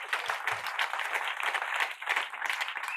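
A church congregation at a consecration service applauds the Lord, sustained dense clapping from many hands filling a hall, steady and fairly loud throughout with no break.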